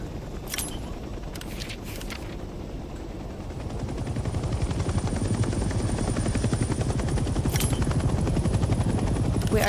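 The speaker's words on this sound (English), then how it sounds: "Let's start by getting in the pilot seat and turning the engine on." A military helicopter engine in the Hell Let Loose video game spins up, a low whine and thudding rotor building steadily louder over several seconds, with a few distant gunshots and sharp clicks early on.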